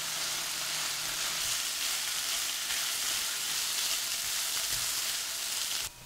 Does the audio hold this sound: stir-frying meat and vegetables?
yes